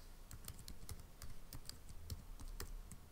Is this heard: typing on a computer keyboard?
yes